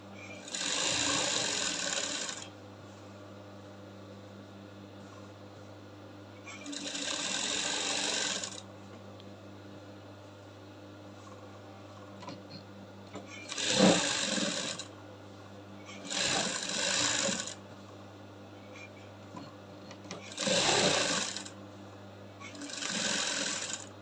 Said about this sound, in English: Alright, so now I'm done top stitching